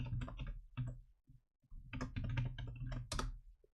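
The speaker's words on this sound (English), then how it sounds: "I need to sort my typing skills out, I really do." Rapid, irregular keystrokes on a computer keyboard while working in a game editor, close and clear and continuing steadily for several seconds with no talk over them.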